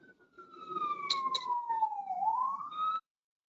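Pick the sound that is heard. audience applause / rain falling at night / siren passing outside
siren passing outside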